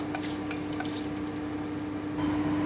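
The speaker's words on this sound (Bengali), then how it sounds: "আমি এগুলোকে এক থেকে দু মিনিট একটু শুকনো কড়াইয়ে ভেজে নিচ্ছি" Spices for achari masala dry roasting in a kadai, with a spoon scraping and tapping the metal pan in a quick, busy rhythm over a steady background hum and faint crackle.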